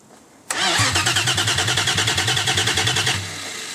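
A rebuilt forged BMW S52 engine cranks with a rapid, rhythmic starter churn for a few seconds before settling as it catches, loud and close with no talking.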